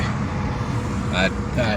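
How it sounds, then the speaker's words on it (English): Trucks hauling cement and sand rumble past on a busy Nairobi road, a steady low engine and traffic drone with brief higher tones near the end. "trucks that are ferrying cement, ferrying sand from different locations"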